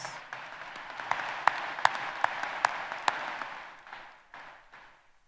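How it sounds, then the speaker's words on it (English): A round of applause from a high school graduation audience, steady clapping with a few sharp louder claps, gradually fading away near the end. "Let's give them another round of applause for their inspirational messages."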